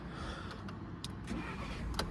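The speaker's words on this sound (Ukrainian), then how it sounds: "Зараз я вам автомобіль заведу." A petrol Volkswagen Cross Touran with an automatic gearbox starting up, heard fairly faint and steady as a low engine hum with a few short clicks and ticks over it.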